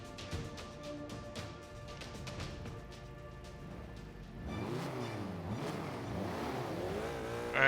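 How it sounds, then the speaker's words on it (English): A race car engine in the racing game Forza 5, first a steady idle under game music, then rising and falling revs that whine up and down repeatedly, close and moderately loud. "Alright, let's see if this car is any better."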